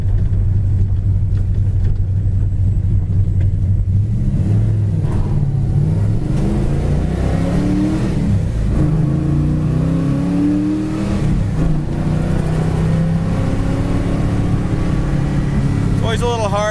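A 1971 Plymouth Duster driven on the road, its engine rumbling loudly and rising in pitch through the gears with audible shift changes, with someone talking throughout.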